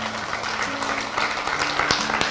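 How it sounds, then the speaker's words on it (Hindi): An audience at a business training session gives a short round of applause, a moderate patter of clapping over a faint steady hum, with one sharper clap standing out. "एक बार ताली बजाओ"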